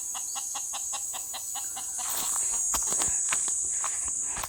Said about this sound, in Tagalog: Uy, may manok.